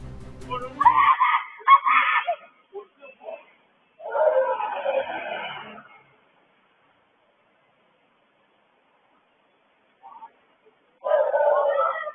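Street CCTV in Coimbatore catches a young woman screaming in daylight as she is forced into a vehicle. Several harsh, strained cries come in bursts, separated by silent gaps, and a final cry comes near the end.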